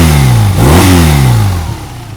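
A 2024 BMW R 12 Cruiser's air/oil-cooled boxer twin revs up loudly close by, its pitch sweeping up then falling away as the engine settles.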